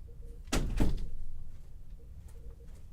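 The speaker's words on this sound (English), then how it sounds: "Let me close the door." A door is pushed shut indoors, giving one close, solid thunk with a brief rattle, followed by a quiet room hum.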